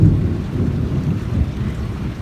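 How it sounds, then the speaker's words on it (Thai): Thunder rumbles over a home in the American countryside after a brief rain shower, a loud, continuous low roll that swells and fades slightly across the whole stretch with no talking. "อุ้ยดูฟ้าร้อง"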